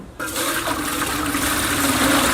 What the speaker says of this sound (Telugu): ఇప్పుడు ఎసరికి అయితే నీళ్లు పెట్టేసుకుందాం.